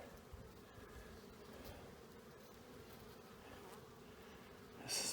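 Carniolan honey bees buzz steadily at the hive in a dense, continuous drone, close and even throughout, with a brief louder rustle near the end.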